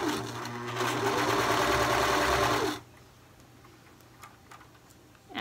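A sewing machine stitches a sweater sleeve in a fast, loud, close mechanical whir for a few seconds, then stops, leaving quiet room tone with a few soft taps.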